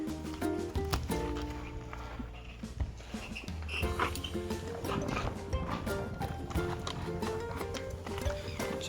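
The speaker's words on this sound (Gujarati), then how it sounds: "ઘોડી હાથે હાથે ખીલે જવા માંડી કેમ એ થાકી ગઈ છે" A tired mare walks slowly toward her tether post, her hooves clip-clopping in an uneven rhythm against a busy, continuous background of outdoor noise.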